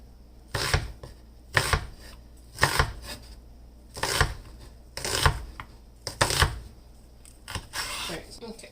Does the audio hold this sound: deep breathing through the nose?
no